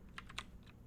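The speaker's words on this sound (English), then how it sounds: "apparently my keyboard is very noticeable" Typing on a mechanical keyboard with brown switches: a few quick, soft keystrokes in a short, quiet burst, with no talking.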